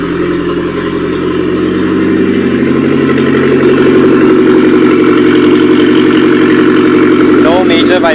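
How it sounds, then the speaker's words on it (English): A Mitsubishi Airtrek Turbo R engine idles steadily and close by, a constant low mechanical hum with a faint rhythmic pulse throughout, and a brief chirp near the end. "Idles nicely, starts well."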